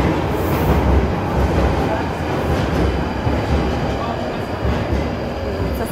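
A train pulls into a UK station with a loud, steady rumble of wheels on rails and some faint squealing, while voices talk over the noise.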